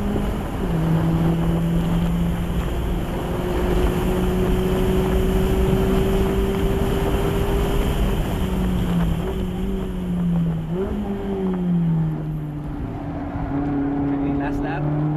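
A Mazda Miata engine held at full throttle on a rain-soaked race track, its steady droning note rising and shifting through the gears, loud and close alongside wind and spray noise.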